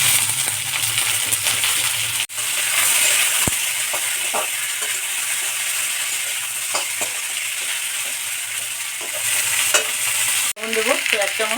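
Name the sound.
cut potatoes added to frying spice paste and stirred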